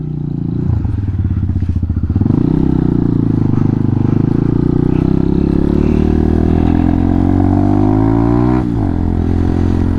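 A Honda Hawk 250 motorcycle rides steadily at cruising speed, its engine drone loud and continuous with a brief throttle change near the start and a short dip near the end, heard alone without talk.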